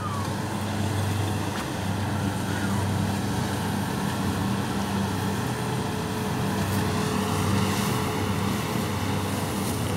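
A Kubota DC60 combine harvester runs loudly and steadily during a winter-spring rice harvest, a close, continuous engine roar with heavy low rumble and a windy, jet-like hiss throughout.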